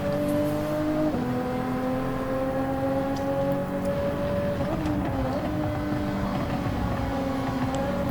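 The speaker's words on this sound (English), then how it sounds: "I've caught up a little bit to the car in front through the chicane, nearly getting ahead" Race cars, including a Ferrari, in Gran Turismo 7 drive through a chicane with a loud, steady engine whine that rises and falls in pitch as the cars shift and accelerate. The engine noise plays alone.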